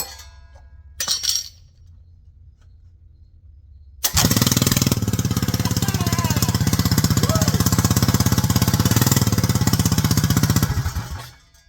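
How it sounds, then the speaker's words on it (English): A small kart or mini bike engine fitted with a recoil starter fires up after a brief cranking sound, then runs loud and steady with a fast, rattling idle before cutting off abruptly near the end. "And it fired right up."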